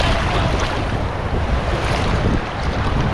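Strong surf pounds the rocky shore of Fortune Island in Nasugbu, Batangas, a loud continuous roar of churning water with wind buffeting the microphone and no voices.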